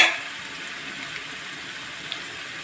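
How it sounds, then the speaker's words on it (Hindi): Ginger and garlic fry in a pan with a soft, steady sizzle and a few faint pops, quiet and continuous with no talking. "अदरक लहसुन फ्राई हो रहा है"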